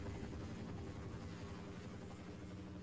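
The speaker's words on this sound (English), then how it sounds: "Yep, that's a helicopter." A helicopter in the Half-Life mod Azure Sheep drones steadily with a dense, low rotor thrum and broad engine roar, continuous and unbroken for the whole stretch, with no talking over it.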